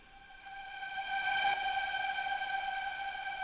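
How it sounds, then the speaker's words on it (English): A bright reverse synth in a progressive house track holds a steady chord that swells to a peak midway and then sustains loudly, with no voices. "and as well as this reverse synth"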